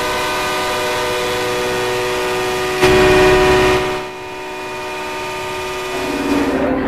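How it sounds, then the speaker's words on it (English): Car horns honking across a city at a set time to mark the New Mexico centennial, a loud sustained blare with a sharper blast partway through, then a lower fading horn tone. "ABQ Ride asked New Mexicans to honk their horns at 11:35 a.m."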